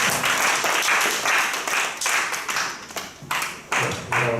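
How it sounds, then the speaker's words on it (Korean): Church youth worship congregation clapping together, a steady rhythmic run of hand claps with brief pulses and gaps, fairly close and moderately loud, no talk over it. "여러분 주께 영광의 박수를 드리겠습니다."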